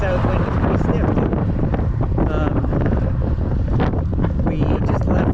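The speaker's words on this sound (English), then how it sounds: "We're heading into a wind. Heading south, and it's a south wind. It's pretty stiff too." A strong, stiff south wind roars across the microphone of a cyclist heading south on a bike tour through Portugal, a loud continuous buffeting rush that fills the whole stretch.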